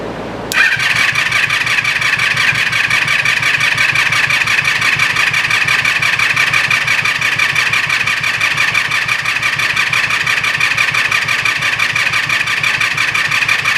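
A Yamaha G1 golf cart's small engine cranks briefly, catches and then runs steadily at a fast, even idle with a loud, close, buzzing rhythmic chug throughout, no talking.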